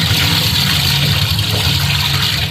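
Finger millet (ragi) grains being rinsed under a running tap: a steady, close rush of water that continues without a break, then cuts off sharply at the end.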